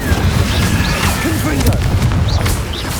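An Incendio fire spell is cast in Hogwarts Legacy, giving bursts of booming, crackling impact inside a dense, busy game soundscape, with voice-like game chatter underneath.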